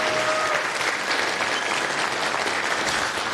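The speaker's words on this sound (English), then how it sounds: "let's give up a big round of applause for Francesc and for Margie" Steady, dense applause from a conference room audience at a programming talks session, an even wash of many hands clapping at constant loudness throughout, with no speech over it.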